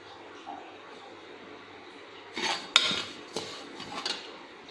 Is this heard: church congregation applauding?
no